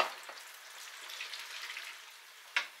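Battered fish and chips deep frying in a pan of hot oil, a steady soft sizzle and bubbling throughout with a small sharp pop near the end, fairly quiet and with no talk.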